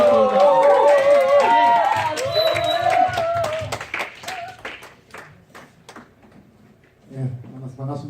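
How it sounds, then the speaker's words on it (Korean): Audience at a Korean church worship internship session welcomes a speaker with a short round of clapping that thins into separate claps, following tonal music and voices and fading before a voice returns. "박수 부탁드립니다."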